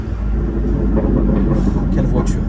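A BMW M4 CS engine rumbles low and steady while driving, a constant mechanical drone with people talking over it throughout.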